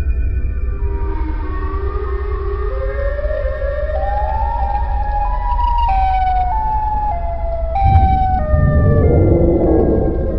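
A loud, rising cartoon siren wail, the sound of Siren Head, swells steadily over a deep rumble, its pitch climbing in steps before a heavy burst of low noise near the end.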